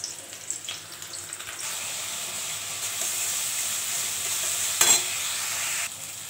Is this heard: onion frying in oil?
yes